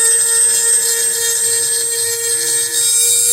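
A power sander smooths the guide rail of a P80 pistol frame, giving a steady, loud, continuous high whine with no pauses and no talking.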